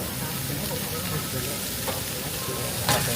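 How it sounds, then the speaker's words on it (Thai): Pork stir-fries in a hot wok, about a kilo at a time, with a loud, dense, unbroken sizzle and a couple of sharper scraping strokes near the end. "ก็คือพี่เขาจะผัดครั้งละหนึ่งกิโลนะครับ"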